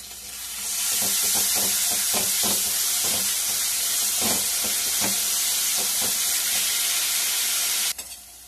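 Food frying in a little ghee with curd, a loud close hiss of sizzling steam with a regular run of spatula scrapes as it is stirred, cutting off abruptly near the end, with no voices.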